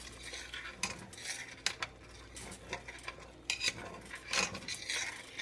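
A utensil scrapes and clinks against a pot while stirring a thick chicken pot pie sauce with chicken and vegetables, in uneven strokes, with a faint bubbling background; close and fairly quiet.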